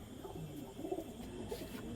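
Pigeons cooing softly at close range, a few low, faint coos over quiet background, with no voices.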